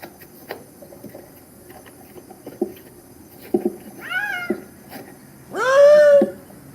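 A cat inside a bag lets out loud, drawn-out screaming meows, two rising wails near the end, amid scattered rustling and soft taps close by.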